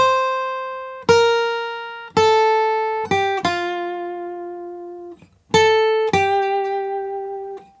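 The closing bars of a song from Baldur's Gate 3 are played freely on a clean guitar, with separated picked notes ringing out between short gaps and a brief rest midway, solo and close.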